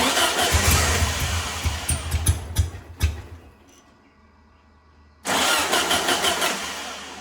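A 1966 VW Bus engine cranks and catches, running with a loud, uneven rumble, then cuts out. After a short quiet gap it fires up again and runs close and loud.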